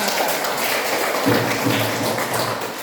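Schoolchildren clapping their hands together in an elementary school classroom, a loud, close, irregular patter of many small hands, with a few faint voices mixed in partway through.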